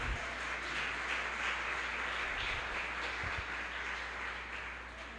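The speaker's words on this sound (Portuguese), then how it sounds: "Pode aplaudir." A church congregation at a youth worship service applauds, a fairly soft and steady spread of clapping with a low hum in the room underneath.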